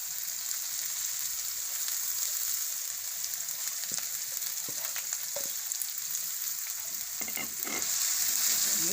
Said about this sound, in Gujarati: હવે આપણે આમાં મેથી નાખી દેવું.